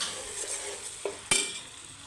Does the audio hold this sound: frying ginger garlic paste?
yes